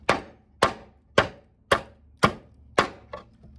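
A Wenger Wolverine knife chopping through wood, six sharp, evenly spaced thwacks about half a second apart, loud and close, followed by a couple of lighter taps.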